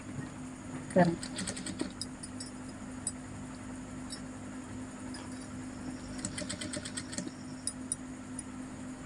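A sewing machine stitches blouse back neck pieces in two short runs of rapid mechanical ticking, one early and one later, separated by a quiet hum. A voice sounds faintly in the background.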